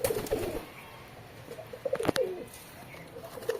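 Low pigeon coos from domestic pet pigeons come in short clusters near the start and middle, with a sharp tap and quiet gaps between.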